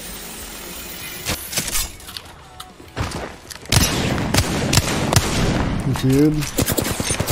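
Automatic gunfire and sharp shots crackle in the Apex Legends video game, bursts repeating through the clip over a busy game soundtrack, with a player's voice speaking briefly.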